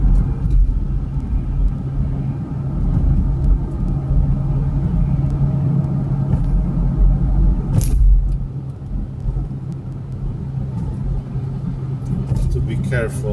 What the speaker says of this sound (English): I am on the left lane and I am driving